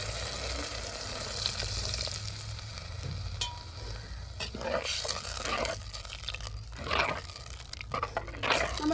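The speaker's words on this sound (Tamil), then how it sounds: "அவிக்கறி தேவையான தண்ணி ஊற்றிக்கிறோங்க" Water is poured into a simmering fish avial masala, giving close sizzling and splashing bursts over a steady frying hiss.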